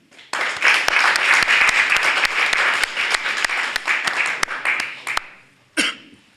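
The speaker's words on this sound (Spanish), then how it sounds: "lo recibimos con un fuerte aplauso" An audience gives loud, dense applause welcoming Santiago Alcaide, MNR regional head, at a gathering on students and university reform. The clapping is sustained for about five seconds, then stops abruptly, followed by a brief cough.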